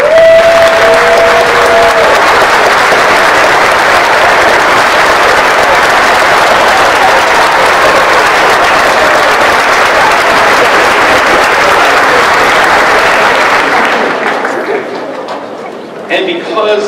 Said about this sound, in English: please stand and accept our applause.